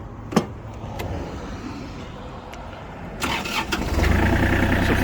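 A Kubota GL23 mini tractor with a front loader and rotary tiller cranks and fires up, a short starter burst leading into a steady, rising diesel idle that grows louder toward the end, heard close with no talking.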